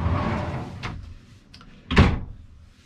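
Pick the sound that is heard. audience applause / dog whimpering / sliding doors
sliding doors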